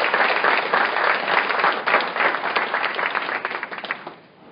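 School board meeting crowd giving a round of applause for young honorees, steady close clapping filling the room before tapering off at the end.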